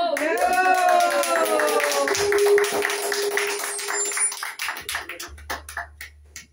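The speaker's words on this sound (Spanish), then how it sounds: "Y el aplauso bien bonito para ellas" Applause for a youth mariachi group of women singers at a birthday celebration, starting under sung harmonies and a held trumpet-like note, then breaking into a run of close hand claps near the end.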